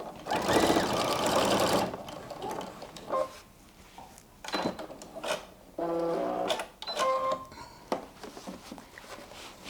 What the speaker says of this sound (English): So let's do another stitch line across